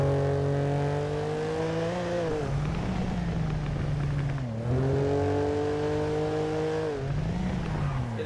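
Lamborghini Huracan speeding down an open road, its engine droning loud and close, the pitch climbing in two long pulls with a brief dip between them, a faint voice underneath.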